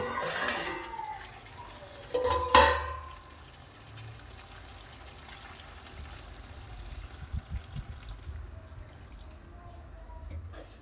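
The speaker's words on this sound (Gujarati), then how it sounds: "હવે 10 મિનિટ થયા પછી આપણે એમાં પાણી એડ કરીશું" Water is poured into goat mutton frying in a pan. A couple of short, quiet pouring splashes come early on, then soft faint bubbling and small kitchen noises follow, close by and with no talk.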